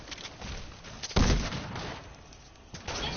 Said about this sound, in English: Tyler, you're getting sniped at, you're getting sniped at